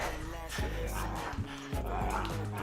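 A dog barks and yips in short bursts at home during an early-morning workout, close and fairly loud, with a person talking around it.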